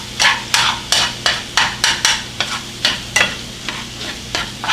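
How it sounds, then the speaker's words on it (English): Crumbled tofu with taco seasoning cooking in a pan, a soft sizzle under about a dozen rhythmic scraping stirs of a spatula against the pan, close and clear, with no talk. "And then you're just going to mix that around and cook it together."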